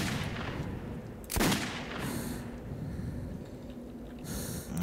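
A single AK rifle shot bursts out loudly in Metro 2033, then dense, noisy game ambience and rumble carry on without more clear shots.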